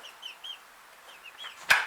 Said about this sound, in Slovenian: Ja, kure.